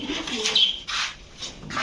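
Baghdadi Huma pigeons coo softly in short, close phrases, with a little faint background noise.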